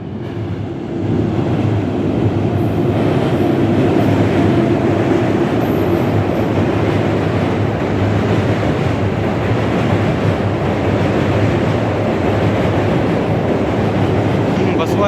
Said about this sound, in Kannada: ರೈಲ್ವೆ ಓವರ್ ಬ್ರಿಡ್ಜ್ ನೋಡಿರಿ ಇದ್ರ ಮೇಲೆ ಟ್ರೈನ್ ಹೋಗ್ತಾಯಿದೆ